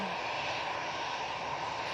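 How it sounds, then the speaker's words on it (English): An EasyJet airliner bound for Milan pushes back at Manchester Airport, a low, steady engine hum running evenly and somewhat distant across the whole stretch, with no talk. "So that EasyJet now is pushing back, the one that we've been going on about, the Milan."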